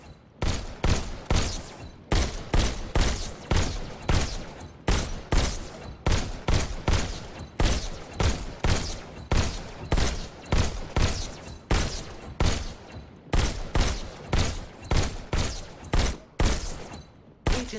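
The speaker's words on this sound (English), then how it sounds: "Now you're armed. Just squeeze the trigger to shoot." Pistol fire in the VR shooter Robo Recall: rapid sharp shots in quick bursts with brief pauses between them, loud and close, without speech.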